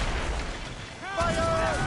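Ship cannons fire in the Assassin's Creed Rogue video game, a loud booming blast followed by rumbling, with a second heavier boom near the end and shouted voices over the noise.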